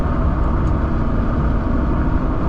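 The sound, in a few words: car driving, heard from inside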